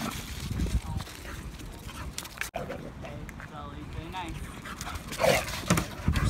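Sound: dog whimpering after a fight with a bulldog

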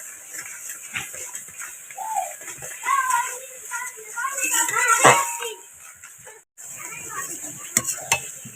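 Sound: stirring spice masala frying in oil for koi fish curry

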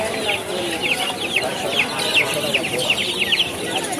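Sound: Fayoumi chickens clucking at a poultry market

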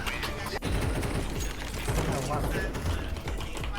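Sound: gunfire in Counter-Strike video game

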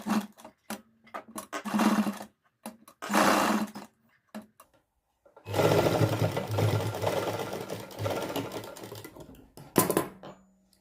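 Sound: sewing machine stitching fabric

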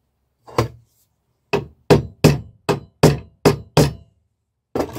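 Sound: hammer striking a metal punch

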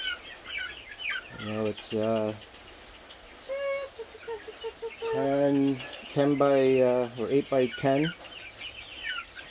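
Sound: young chickens clucking in a new coop

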